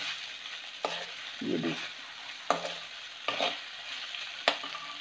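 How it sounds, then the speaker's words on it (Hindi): Potato vegetable dish with gram greens being stir-fried in a pan, a continuous close sizzle broken by several sharp scraping stirs of a spoon, and someone speaks briefly. "अब मैं इसको 2 मिनट ऐसे भून के और फिर गैस बंद कर दूंगी।"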